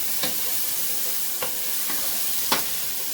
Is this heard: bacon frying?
yes